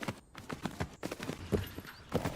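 Horse hooves clip-clopping in a steady run of muffled thuds as the horse lands in the video game Tales of Rein Ravine, on an outdoor custom course, close and continuous with faint game ambience.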